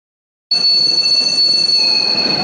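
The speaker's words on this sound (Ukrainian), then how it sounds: "Черговий потяг прибуває до Львова вчасно." A train pulls into the station at Lviv. After a short silence it comes in loud and steady, with a high, sustained metallic wheel squeal over a rumbling rail noise.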